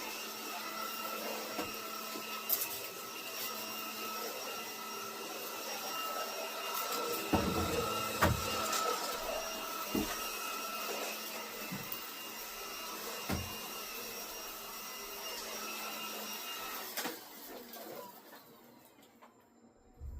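A household vacuum cleaner runs continuously with a steady whine and roar, sucking up a piece of cardboard, nearby and moderately loud, with a few knocks and thumps as it is pushed around, no talk.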